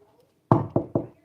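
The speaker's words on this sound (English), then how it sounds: "Knock on wood." Three sharp knocks on a wooden surface, close and fairly loud, evenly spaced in quick succession after a brief quiet moment.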